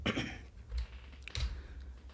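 Fingers tapping on a computer keyboard to enter a 15-digit tax number in accounting software, a few quick clustered keystroke bursts, close and fairly quiet, with no talking.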